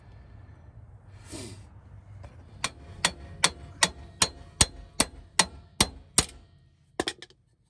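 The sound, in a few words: hammering out a broken wheel stud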